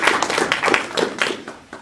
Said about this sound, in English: So we give a round of applause to student vice